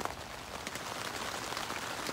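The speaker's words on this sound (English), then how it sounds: "it's still raining" Rain patters steadily on a Luxe Twinpeak tent at night, a dense, even hiss of countless drops with scattered slightly louder taps, soft and continuous.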